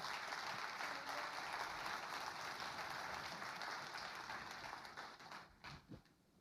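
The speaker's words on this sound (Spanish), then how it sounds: "si le vas a dar un fuerte aplauso, dáselo al Señor" A church congregation gives sustained applause, a steady wash of many hands clapping that holds for several seconds before thinning out into a few scattered claps at the end.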